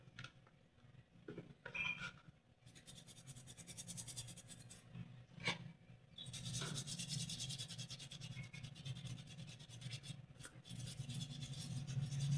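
A metal healing medallion is scrubbed and rubbed clean, giving soft, quiet rasping strokes in short bursts at first, then a longer continuous scrubbing stretch, close and low in level with no speech.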